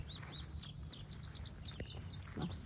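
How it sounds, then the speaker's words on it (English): Many birds chirp and tweet along a woodland trail at the edge of the woods, with overlapping high calls throughout and a steady outdoor background hum. "Lots of birds chirping."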